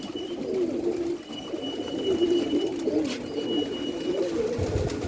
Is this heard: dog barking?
no